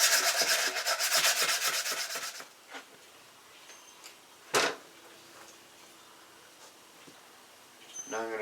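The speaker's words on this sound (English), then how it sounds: "So what I'm doing here is I've got some light sandpaper, or fine sandpaper." Fine sandpaper rubs across the corner of a used Chevy small block cylinder head, a close, rapid scratchy scrubbing for a couple of seconds, then mostly quiet apart from a sharp swipe and a few faint scrapes.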